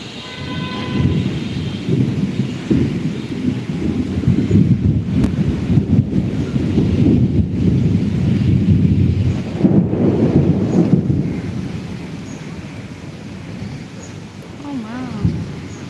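A thunderstorm with rain and wind in Chittagong, heard as a loud, continuous roar of wind and rain with deep rumbling surges that swell midway and ease toward the end.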